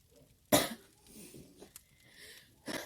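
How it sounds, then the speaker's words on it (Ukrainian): A sharp, loud cough bursts out, followed by softer rustling and breathing, then another short cough-like burst near the end. "Адже я почала дуже кашляти"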